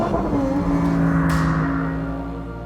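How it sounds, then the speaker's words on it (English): Lamborghini Huracan STO V10 engine revving hard on a race track, a loud, continuous rising howl close to the microphone with a brief sharp burst near the top of the rev range. "this engine revs so quickly, it catches you out regularly"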